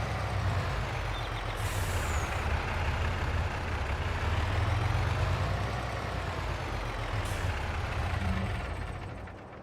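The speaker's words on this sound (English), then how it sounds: "Perfect day for driving the Mac." A Mack truck runs steadily in Farming Simulator 22, its engine droning loudly throughout with two short hissing air-brake releases, fading slightly at the end, with no voices.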